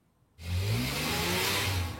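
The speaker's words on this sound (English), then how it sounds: "when classic cars and their owners aren't buzzing up and down this racetrack" A classic car revs at a racetrack in Norwalk, Ohio, its engine bursting in abruptly after near silence and holding a loud, close, sustained roar.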